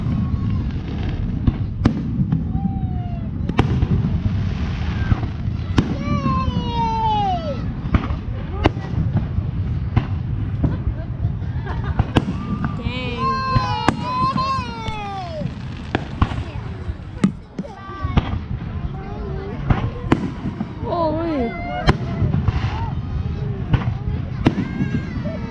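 Repeated firework bursts crack and pop at irregular intervals, mixed with rising whistles and crackling, while people chat and call out nearby.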